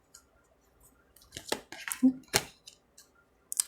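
A deck of tarot cards is shuffled by hand at close range, giving a quiet, irregular run of short papery flicks and crisp snaps with brief pauses between them.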